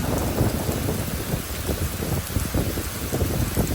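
Heavy rain pouring down on a street in Singapore during a storm, in a dense, loud, steady roar with low rumbling underneath, no voices.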